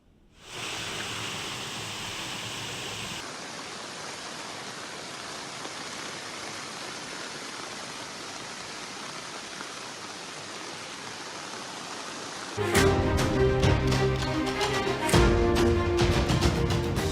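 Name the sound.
heavy rain and flood water in Hyderabad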